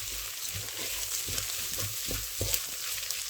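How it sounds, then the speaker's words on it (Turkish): A spoon stirs Ezogelin lentil soup in a pot, with repeated soft scraping strokes over a steady background hiss, close and fairly quiet, with no talking. "Bir karıştırayım."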